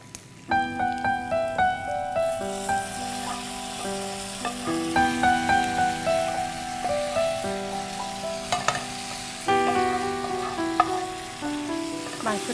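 Onions cut somewhat thick sizzle and get stirred in a pan in a TV cooking-show kitchen, a steady frying hiss running under prominent tonal background music with scattered scraping stirs.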